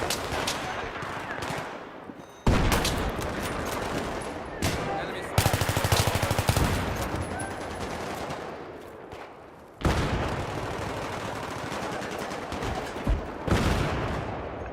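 Battlefield 3 multiplayer gunfire on PC, with loud automatic bursts and single shots in several clusters separated by sudden cuts and pauses, close and sustained, with a player talking in between.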